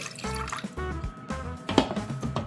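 Water is poured into a pot of beef, onion, pepper, seasoning and salt, giving a short, close run of splashing and dribbling liquid with no talk over it.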